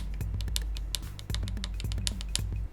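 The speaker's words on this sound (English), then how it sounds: "The D-pad is a little weird. It's clicky, for one thing." A handheld game console's D-pad gives rapid, crisp plastic clicks in an uneven tapping rhythm, close and dry over a low steady hum, with no voices.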